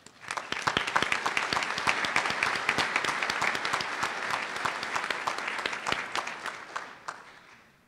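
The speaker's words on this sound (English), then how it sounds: "Give them a round of applause" Audience applause at a University of Iowa College of Dentistry commencement for newly named graduates, with crisp individual claps building into steady clapping that fades out at the end.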